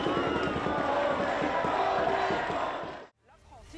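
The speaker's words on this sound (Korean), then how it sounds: "파리 레피블릭 광장에 모인 좌파 지지자들이 국기를 흔들며 환호합니다." A dense crowd of left-wing supporters cheering and shouting in Place de la République in Paris, a loud continuous roar of many voices that cuts off abruptly near the end, followed by quieter ambient noise.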